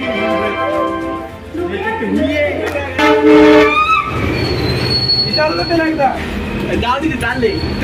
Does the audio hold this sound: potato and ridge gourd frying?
no